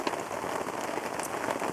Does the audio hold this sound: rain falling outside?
yes